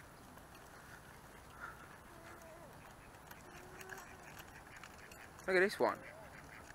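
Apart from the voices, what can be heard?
ducks quacking at a park pond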